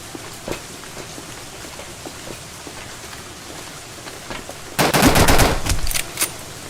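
An AK-47 fires in the rainy night of the video game Dead Don't Die. Light rain patter and scattered faint shots run under a sudden loud burst of rapid automatic fire near the end, followed by one more short crack.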